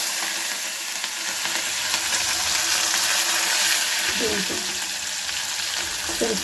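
Chopped chillies and tomatoes fry in hot oil for dal pakoda, giving a loud, steady, close sizzle throughout, with a few brief stirring scrapes and faint speech underneath.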